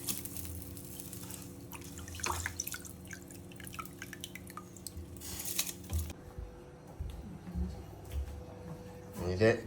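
Water bubbling at a boil in a cooking pot as washed rice goes in for pot chicken, a busy wet patter of drips and splashes over a steady low hum, with a louder clatter near the end.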